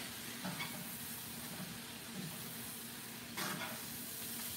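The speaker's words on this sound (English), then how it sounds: "Let me stir this up." Spinach with garlic and butter sizzles softly in a pan, with a couple of brief stirring scrapes rising above the low, constant frying hiss.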